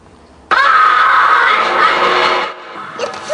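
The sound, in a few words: child screaming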